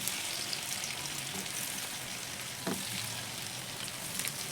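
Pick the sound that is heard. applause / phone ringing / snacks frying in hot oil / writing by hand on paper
snacks frying in hot oil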